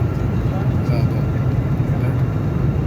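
Air India passenger aircraft cabin during turbulent, shaking flight: a loud, steady low engine and airflow roar fills the cabin, with faint hints of voices beneath.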